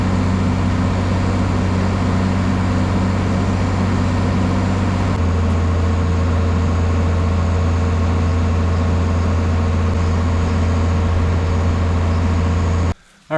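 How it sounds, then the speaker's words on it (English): A tractor engine runs steadily with a constant low droning hum that shifts slightly partway through, then stops abruptly at the very end, with no talking. "I'm going to turn the tractor on"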